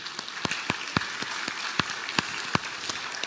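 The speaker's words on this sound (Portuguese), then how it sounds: "Uma salva de palmas para eles." Applause from a church congregation at a Sunday service, heard as a sparse, steady patter of claps with a few sharper individual hits standing out, moderately loud and without talk.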